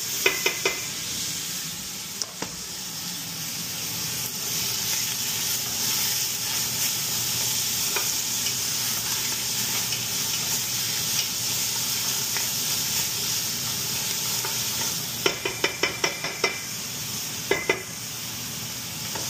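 Tomatoes sautéing in a pan give a steady close sizzle and hiss throughout, with a few sharp clicks of utensil against the pan near the start and in a cluster toward the end.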